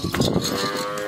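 A Cholistani-Jersey cross heifer at a livestock sale gives a single short, loud moo close by, fading out within about a second.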